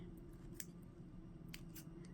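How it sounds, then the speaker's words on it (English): Tim Holtz scissors snipping through crazy quilt fabric, a few short crisp snips spaced across the moment, close and fairly quiet over a steady low background hum. "even though these are my Tim Holtz scissors, and they're supposed to be sharp and cut through anything"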